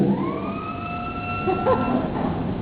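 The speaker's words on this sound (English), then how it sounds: "In case we need a policeman, we call the siren." Siren effect from a Barton theatre organ, a rising then sustained wailing tone with steady harmonics holding for a couple of seconds, moderately loud in a theatre with no talking.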